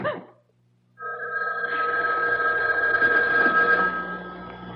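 A house telephone rings repeatedly in a radio drama, a steady electric bell with even, sustained rings, fairly loud and close, heard alone without any talk.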